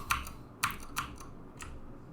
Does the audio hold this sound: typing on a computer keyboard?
yes